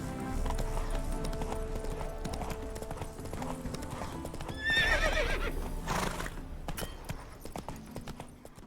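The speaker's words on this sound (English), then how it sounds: "Spooking my horse. Roach doesn't like ghosts." Roach, the horse in The Witcher 3, whinnies in fright with a rising, shaky neigh midway, amid steady hoof clip-clop and a backdrop of game music.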